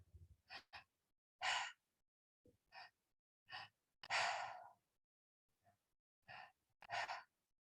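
Deep rhythmic breathwork, a series of close, audible inhales and exhales, some short and sharp, others long and airy, separated by brief pauses, with no talking.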